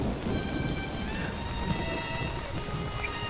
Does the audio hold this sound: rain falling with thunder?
yes